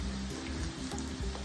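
Garlic frying in a pan toward light brown for beef ribs caldereta gives a steady, close crackling sizzle with small popping spatters throughout, no voices.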